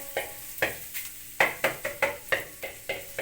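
Lamb tail fat melts in a pan with a soft sizzle, punctuated by a rhythmic series of close, sharp stirring scrapes and clinks of a utensil against the pan.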